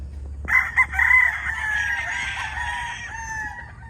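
A young rooster with a straight comb crows once nearby, a long, strained cock-a-doodle-doo held for about three seconds over a low background hum.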